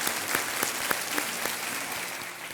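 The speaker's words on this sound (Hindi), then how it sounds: "इसके लिए हम आपके लिए तालियां बजवाना चाहेंगे" Studio audience on a quiz show applauding a contestant, a steady, even wash of many hands clapping, moderately loud and continuous, with no speech over it.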